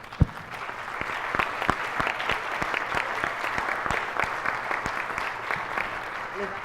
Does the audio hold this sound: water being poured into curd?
no